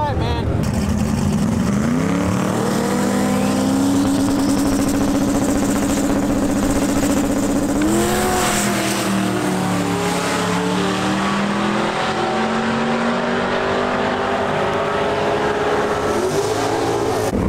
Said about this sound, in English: This little Volvo wagon is so sick. It's extremely fast.